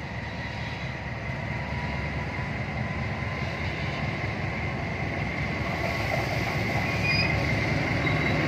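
A special rail service runs near midnight, a continuous loud rumble of wheels on track with steady rolling noise and faint high squeals, heard close throughout without speech.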